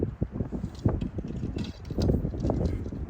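Outdoor wind blows straight toward the microphone at a cold archery range, producing irregular buffeting rumbles and gusty bursts that fill the whole clip, with no talking.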